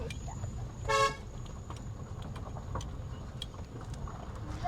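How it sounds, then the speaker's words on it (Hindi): A car horn gives one short honk about a second in while a car drives uphill, heard over a low, steady rumble of engine and road noise. "हॉर्न देते रहिए"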